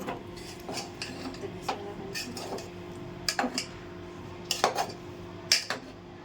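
Carrot halwa being stirred in a pan, with a spoon scraping and clinking against the metal in irregular strokes, several sharper knocks standing out against a quiet kitchen background.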